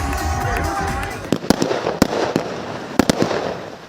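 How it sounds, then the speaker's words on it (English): Fireworks crack and boom in a series of sharp bangs over a noisy outdoor crowd at a beach party on the Rosebud foreshore, Melbourne, with several loud pops clustered close together. "Fireworks on the beach,"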